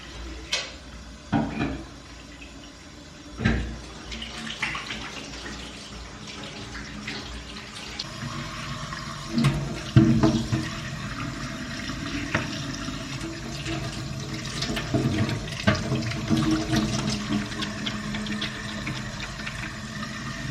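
Water runs from a tap while eggs are washed at a kitchen sink, an uneven splashing flow broken by sharp clicks and knocks of handling, close and moderately loud throughout.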